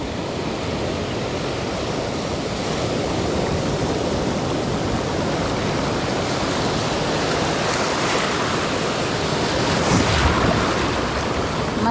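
Strong ocean waves breaking at a rocky shore make a loud, continuous roar of surf, with heavy wind buffeting the microphone throughout and a slight swell near the end.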